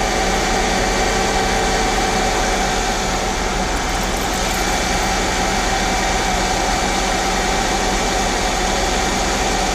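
A Mercedes E320 W210 with the M112 engine runs steadily, a loud, constant broadband roar and hum with no change in pitch.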